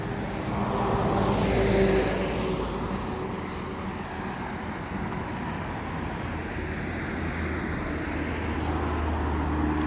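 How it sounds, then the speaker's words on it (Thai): A tourist sightseeing vehicle drives past on a street in Switzerland, a broad engine and road rumble that swells early, then settles into a steady, moderately distant drone. "นี่ก็จะเป็นรถนักท่องเที่ยวทัศนจร ทัศนศึกษาทัศนจร"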